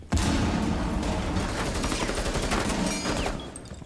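Dense, sustained gunfire in Rainbow Six Siege during a one-versus-five round, loud and continuous with overlapping shots and bursts throughout, no talking over it.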